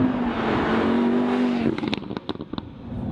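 Lamborghini Huracan LP 610-4 on an open road, a steady loud engine drone with a rising tone that cuts out abruptly midway, leaving scattered clicks and short bursts of sound.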